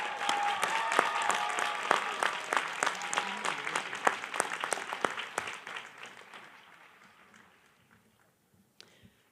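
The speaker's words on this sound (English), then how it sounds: "Please join me in thanking Dr. Chirozzi and her team with a loud round of applause." Applause from the audience at a university graduation ceremony in Reno, Nevada, with many hands clapping densely and loudly before gradually thinning out and fading toward the end.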